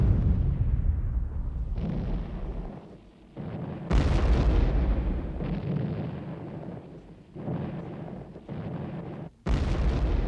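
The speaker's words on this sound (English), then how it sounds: "Anti-tank guns were just one of the many hazards faced by the tank men." A German anti-tank gun fires in a wartime setting: heavy, booming shots repeat at irregular intervals, each followed by a long rumbling decay.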